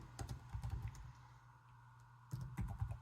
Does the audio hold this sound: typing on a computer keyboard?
yes